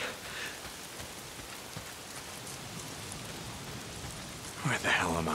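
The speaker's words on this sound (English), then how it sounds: "Why is it always raining?" Steady rainfall patters evenly throughout in the video game Days Gone, with a brief louder disturbance near the end.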